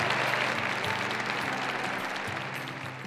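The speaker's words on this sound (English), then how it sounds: "Let me hear a big cheer." Audience at a corporate celebration honoring top companies for executive women cheers and applauds, a dense, steady wash of clapping that holds at full strength and eases slightly toward the end.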